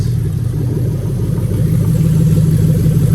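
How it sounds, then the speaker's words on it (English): A Lexus 3UZ-FE V8 swapped into an IS300 idles at about 760 rpm, a steady loud close low rumble with an even mechanical beat and no speech. "Our engine speed's about 760 or whatever, so that looks about right to me."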